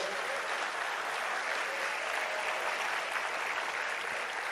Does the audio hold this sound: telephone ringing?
no